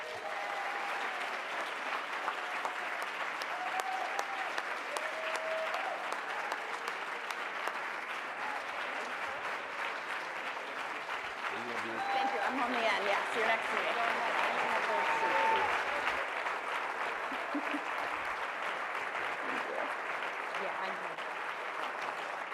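Sustained applause from a conference audience welcoming a panel of lawyers, steady and full throughout with a swell midway, mixed with scattered voices in the crowd.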